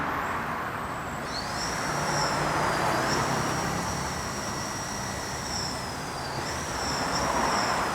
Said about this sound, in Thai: ติดเครื่องฟังเสียงมอเตอร์ไม่ใช่ฟังเสียงท่อนะ